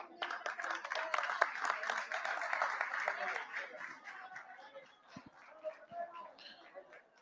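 Applause from the audience at a National Theatre Day ceremony at a book fair, many hands clapping in a dense patter that swells then thins toward the end, with voices mixed in.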